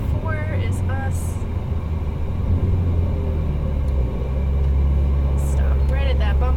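A Ferrari 458 Italia rumbles steadily in a pit lane, its low engine drone loud and continuous throughout, with brief higher tonal bursts near the start and end.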